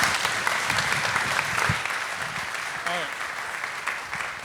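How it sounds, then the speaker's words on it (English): Panel audience gives a big round of applause at a business studio event, dense steady clapping throughout with a voice briefly heard over it. "can we give them a big round of applause?"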